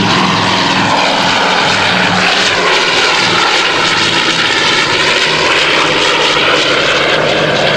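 A propeller airplane engine drones loud and steady throughout, a continuous broadband roar while the landing gear retracts, with no talking over it.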